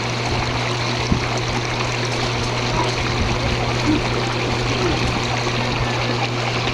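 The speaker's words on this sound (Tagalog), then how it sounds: "paminawan ninyo ang agos sa tubig" Stream water flows in a continuous, even rush with light trickling detail, heard close and alone against a low steady hum.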